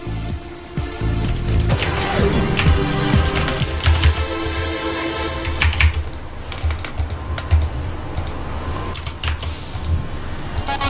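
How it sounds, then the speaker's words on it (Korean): Rapid keyboard typing from a macro keyboard, dense overlapping key clatter with bursts throughout, set against steady game music and effects from the Lineage online game. "매크로 키보드 쓰나 보다."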